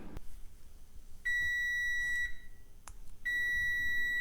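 The timer on a Ninja Foodi XL air fryer oven beeping in two long, loud, steady electronic tones separated by a short gap, with faint kitchen noise between them.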